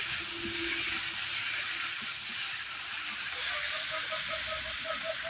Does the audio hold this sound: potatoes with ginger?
yes